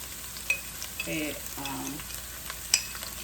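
Cabbage frying in coconut oil, a soft steady sizzle with sharp scrapes of stirring and a couple of loud utensil clacks against the pan, heard alone without talk.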